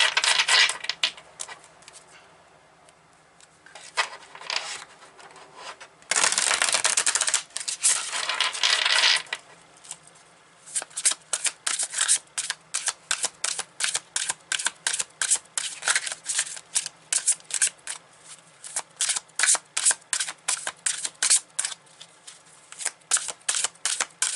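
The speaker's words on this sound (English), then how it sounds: "Let's see if we can pull a few cards." Tarot cards are shuffled by hand in quick, crisp riffling bursts with sharp clacks and short pauses between runs, close and clear, with no talking over them.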